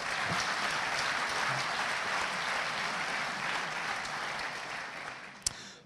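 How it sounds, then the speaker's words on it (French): Audience at the Devoxx France 2017 opening keynote breaks into steady, dense applause that holds for several seconds, then fades, ending with a single sharp knock. "On peut les applaudir, oui."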